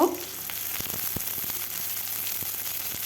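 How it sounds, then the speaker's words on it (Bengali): Onions, green chilies and panch phoron fry in hot mustard oil, a steady close sizzle running throughout with a few soft clicks of stirring. "তেল গরম হলে দিয়ে দিলাম পাঁচফোড়ন কাঁচা লঙ্কা পেঁয়াজ দিয়ে লাল লাল করে ভেজে নেব"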